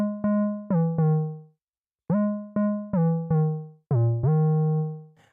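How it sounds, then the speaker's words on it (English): An 808 bass preset pitched up a couple octaves and played as a gliding lead, a sequence of short plucky notes with pitch slides in distinct phrases separated by a brief gap, clean and alone. "I've just got this 808 preset up and I've actually turned it up a couple octaves"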